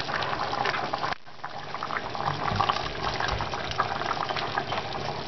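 Dried chickpeas tumble into a simmering pot of chorba hamra, a continuous close watery rush and bubbling after a brief pause at the start, with no talking.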